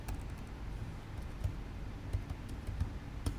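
Keys tapped on a computer keyboard, a sparse run of soft clicks at uneven intervals, close and quiet against a steady background hiss.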